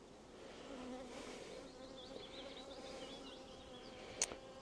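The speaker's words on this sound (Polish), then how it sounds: "Pszczoły, mimo że dostały dymu, zachowują się jakby normalnie." Honeybees at an opened hive after smoking, a steady, fairly faint swarm buzz that hums throughout, with a brief sharp knock near the end.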